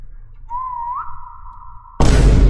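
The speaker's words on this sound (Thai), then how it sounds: "เดี๋ยวผมจะลองผิวปากนะครับ" A person whistles a single sustained tone in a Roblox SCP-3008 game session, with a brief rising inflection before it holds steady, then a sudden loud burst of noise cuts in.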